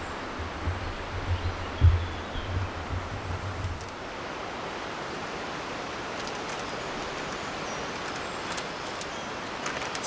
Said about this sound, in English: It is a bit breezy.